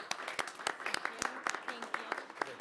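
Scattered applause rings out in a city council meeting room in Aspen as a new climate action manager is introduced, with uneven sharp claps close to the mic.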